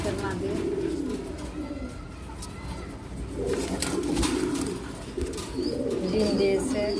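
A black tail-marked female fancy pigeon at a farm gives soft, repeated low coos, with someone talking steadily over them and other birds faintly chirping nearby.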